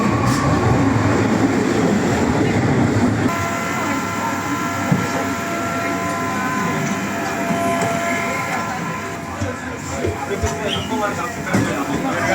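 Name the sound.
subway train ride in Lisbon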